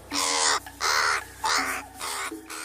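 A crow caws loudly four or five times in a steady series, harsh and close, with short gaps between each call.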